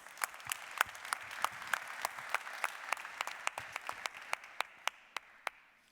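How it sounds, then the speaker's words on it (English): A keynote audience gives a round of applause, a thin scattering of individual claps at first moderate volume that gradually thin out and fade, with little talk over it. "Yeah, round of applause."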